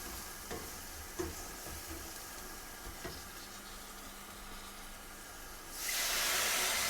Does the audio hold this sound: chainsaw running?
no